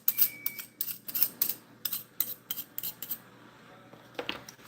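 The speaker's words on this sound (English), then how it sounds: "Scrape the rest of the sour cream off this spoon with my whisk" A metal whisk scraping thick sour cream off a spoon in a home kitchen makes a series of quick, close, crisp metallic scrapes and clicks in irregular bursts, with no talking.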